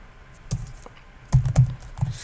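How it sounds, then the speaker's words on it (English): Close keys clicking on a computer keyboard as a Linux terminal command is typed, a short run of several irregular taps with a few louder strikes and no talking. "So we can just type journalctl by itself"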